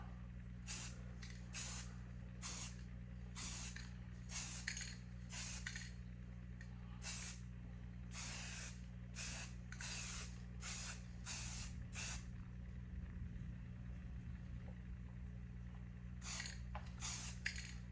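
Bursts of spray paint hiss out of an aerosol can as a black background is painted onto aquarium glass, a run of short sprays with pauses between them, close and steady over a low constant hum.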